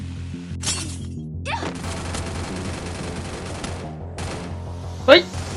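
Video game gunfire comes in bursts of sharp cracks and rattling shots, with one louder burst near the end, heard up close alongside speech.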